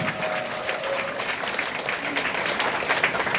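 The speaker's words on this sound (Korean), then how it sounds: "다시 한번 뜨거운 박수를 보내주시면 감사하겠습니다." A crowd applauds steadily at a ventriloquism performance, dense overlapping clapping that holds at an even level throughout with no pauses.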